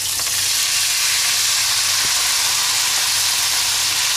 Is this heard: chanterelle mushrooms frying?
yes